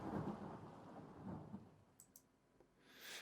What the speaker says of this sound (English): Some blasts or thunder or something like that